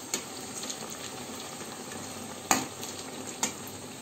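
Evening snacks frying slowly in oil over low heat, a soft continuous sizzle broken by a few sharp utensil clicks and scrapes, including two louder taps near the end.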